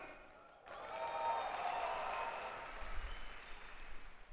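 Large crowd at an outdoor public event breaking into sustained applause and cheering, a broad dense wash that swells early and holds steady, with some low rumble later on.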